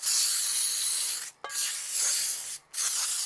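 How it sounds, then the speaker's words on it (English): A steady hissing of aerosol baking spray into a cake pan, close by, broken by two brief pauses before the spray resumes; no voices. "So I'm going to spray around the sides and, of course, in the middle."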